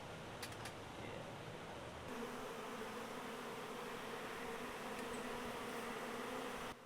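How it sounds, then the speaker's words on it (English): A steady, low insect hum of many honey bees fanning their wings close together at a hive entrance, droning continuously and growing slightly fuller partway through. "bees sticking their butts in the air and fanning their wings at the entrance of the hive"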